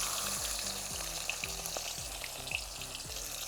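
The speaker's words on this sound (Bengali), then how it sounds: "প্রথমে মাছটা ভাজতে শুরু করেছি, কারণ তেলটা গরম হয়ে গেছে" Pieces of chitol fish fry in hot mustard oil, giving a soft, steady sizzle and crackle heard from close by at low volume, with no talking.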